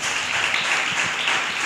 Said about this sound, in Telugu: అయితే అందరు క్లాప్స్ కొట్టండి అమ్మా.